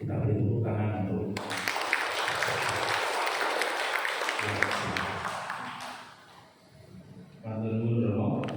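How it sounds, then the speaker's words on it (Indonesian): Applause from an audience celebrating a priest's birthday swells for several seconds, a dense wash of clapping that fades, with voices talking at the start and end. "Kita beri tepuk tangan untuk"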